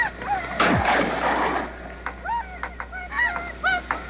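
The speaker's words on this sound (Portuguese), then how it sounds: "Eles atiram em tudo que encontram. Gansos selvagens, ursos polares, moças, caribus." Arctic Inuit hunters fire a single loud gunshot at wild geese, followed by a flock's repeated honking calls scattering in open air.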